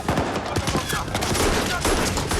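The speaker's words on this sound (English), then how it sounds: "When you stand there with a magazine full of rounds and start shooting" A dense fusillade of rapid gunfire from guns fired on a film set. The shots are loud and crowded together and continue without a break, with no speech over them.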